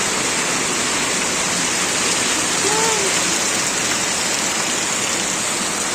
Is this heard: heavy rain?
yes